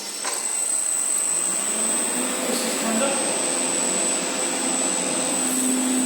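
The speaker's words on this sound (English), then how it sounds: "Here's your motor room. There's your motor." Lift motor running steadily in a tower block motor room on a council estate, a constant loud mechanical whine and hum with a high tonal line, someone talking over it throughout.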